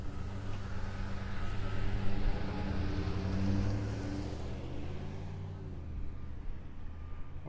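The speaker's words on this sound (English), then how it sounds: "Waiting for some traffic to go by here." Traffic passes along a residential street in Naples Park, North Naples, Florida, with a vehicle swelling nearer and then fading as it rolls by, moderately faint and without talk.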